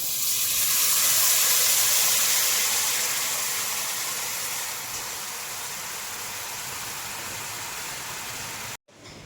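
Melted jaggery, one kilo, poured into a hot uruli for Kerala pumpkin dal payasam, giving a loud, steady sizzling hiss close by that slowly eases off before it suddenly stops.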